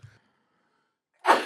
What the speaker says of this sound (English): This vape does make you sneeze and gets in your nose.